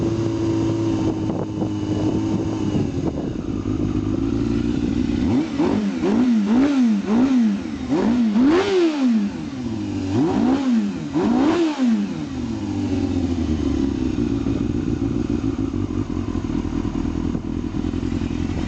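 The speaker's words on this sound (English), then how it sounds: "See, it'll idle down nice. It's still cold." A cold-started 2001 Yamaha YZF600R sport bike engine idles steadily and loud up close, with a few brief throttle blips rising and falling in pitch midway before it settles back to a smooth idle.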